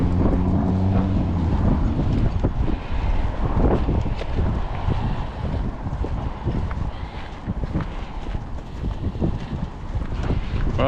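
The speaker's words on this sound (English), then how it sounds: "Ooh, that's a good wind." A strong gust of wind blowing outdoors on a walk near Bates College in Lewiston, Maine, roaring loudly across the microphone in a steady, buffeting rush that lasts throughout, with no talking.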